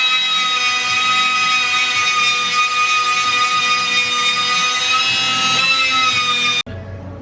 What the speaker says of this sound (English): grind down some of those rivets